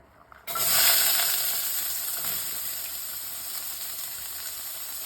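Chopped onions hit hot sesame oil in a kadai and burst into a loud sizzle, then settle into a steady, slowly fading hiss of sautéing with no talking.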